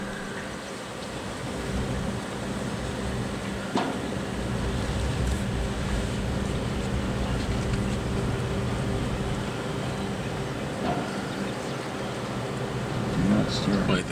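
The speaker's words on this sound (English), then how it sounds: "Just really enjoyed this ferry ride." Steady low engine rumble and wind wash fill a ferry crossing on open water, a constant drone with faint occasional knocks and no talk.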